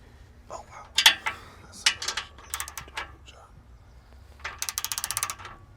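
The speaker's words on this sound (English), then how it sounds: "you see how sometimes the impact driver doesn't tighten them" An impact driver working on 4Runner lug nuts rattles in short bursts, with a rapid hammering burst near the end, mid-distance amid quiet gaps and light handling noise.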